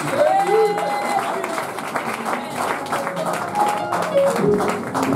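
A church congregation applauding after prayer, a moderate wash of mixed clapping and crowd noise with voices calling out over it.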